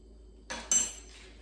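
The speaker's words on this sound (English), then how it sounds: "So pierce each hot dog a few times with a fork." A fork striking hot dogs in an Instant Pot's metal inner pot, giving two short metallic clinks in quick succession, close and clear in a quiet kitchen.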